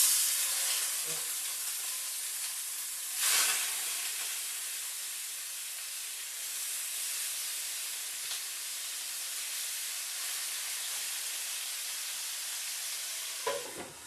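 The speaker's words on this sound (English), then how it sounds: "We've got a hot pan, a very hot pan. And we're going to put our chicken in." Chicken sizzles in a very hot pan, a loud, steady hiss of frying that fills the whole stretch, with a sharper surge of spattering early on as the meat goes in and faint clatter throughout.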